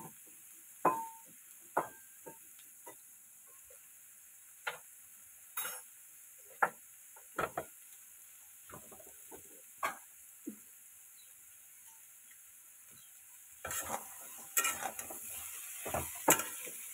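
Boneless meat frying in a pan gives a faint sizzle under scattered sharp scrapes and clicks of stirring, sparse at first and then quicker, busier bursts toward the end.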